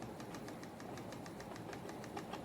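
Yarn spun together with fiber locks by hand, giving a steady close whirring hum with a fast, even ticking pulse running throughout and no talking.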